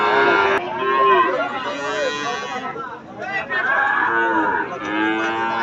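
Cattle mooing at the Aronkhola livestock market, several long, loud, drawn-out calls from nearby, with a murmur of people talking in the background.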